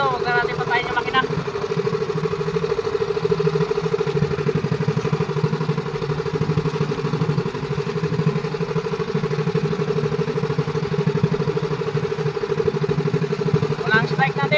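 A motorcycle engine idles steadily throughout, a constant low drone with light clatter, while someone speaks over it at times.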